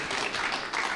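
Audience clapping at a panel session on antisemitism and technology, a steady dense patter of many hands filling the short moment without speech over it.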